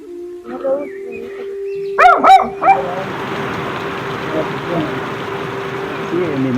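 A dog gives a few sharp barks early on, followed by a persistent broadband noise and a steady hum, with voices audible at times.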